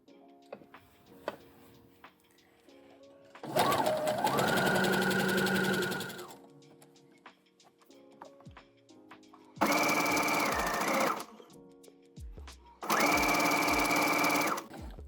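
A sewing machine stitching fold over elastic onto lingerie fabric runs in three separate bursts of fast, steady whirring, close and loud, with quiet handling sounds and ticks in the pauses between.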